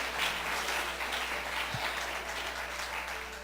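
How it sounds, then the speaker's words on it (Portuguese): A church congregation claps during a sermon on Moses's dream, a continuous wash of many hands heard at a moderate distance, steady and without any voice on top. "Não, mais forte as palmas"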